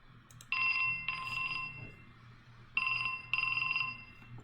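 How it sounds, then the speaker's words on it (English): An incoming call on a telephone rings indoors in two pairs of loud, bright electronic bursts, each about half a second long, separated by a short pause, with no one talking. "I'm getting a phone call."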